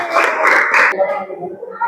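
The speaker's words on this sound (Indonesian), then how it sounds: "Oke, tepuk tangan" Short burst of clapping from a small school group, a few quick pulses of hands that stop abruptly, followed by a voice talking.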